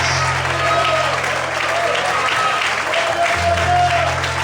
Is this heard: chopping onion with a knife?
no